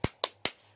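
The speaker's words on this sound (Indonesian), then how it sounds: "Nah, nanti tepuk semangat." Three sharp, evenly spaced claps ring out in quick succession, close and crisp, as a school class performs a rhythmic 'tepuk semangat' spirit clap, with no voices over them.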